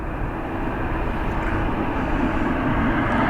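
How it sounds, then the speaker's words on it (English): Aer Lingus A321 XLR jets power up and push back for departure at Dublin Airport, giving a steady, moderately loud engine rumble and hum that holds throughout. "So both of the Aer Lingus A321 XLRs are powered up and pushing back for departure here."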